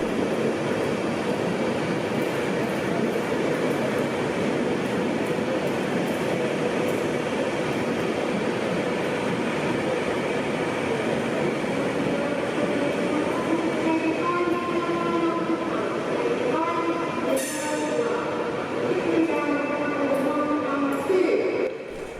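London-bound Pendolino train passing through a station near Carlisle, a loud, sustained rumble and rush of the passing carriages with rail clatter, faint squeals and brake tones rising toward the end.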